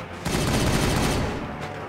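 Rapid bursts of gunfire rattle through a Warhammer 40000 Regicide battle, a dense, loud fusillade running steadily for over a second before easing off, with a brief second burst near the end.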